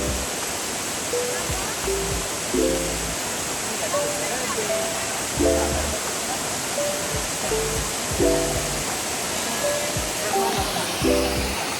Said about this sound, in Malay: Air terjun kat sini dia memang lain sikit lah.